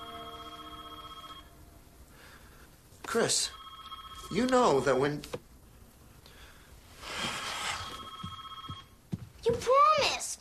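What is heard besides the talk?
telephone ringing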